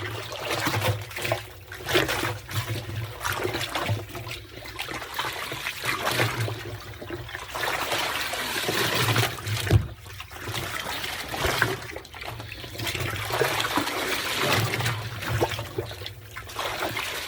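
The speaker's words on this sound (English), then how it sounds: "Now we'll take our old bear hide, dump it in there, and you just kind of agitate it." An old bear hide is sloshed and agitated in a tub of water mixed with degreaser, giving continuous splashing and trickling with rhythmic surges of churning liquid, close and steady throughout.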